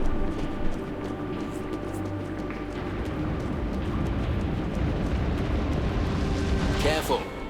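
A lava flare-up erupts in a volcanic pit in Dungeon Siege 3, a continuous low rumbling roar with scattered crackles and bursts that swells slightly toward the end, mixed with game ambience.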